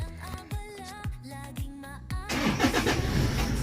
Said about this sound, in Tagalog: ang ganda ng tunog ng kanyang makina